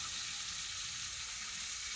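A fish frying in a pan gives off a steady, broad sizzle that stays even and unbroken throughout, with no voices.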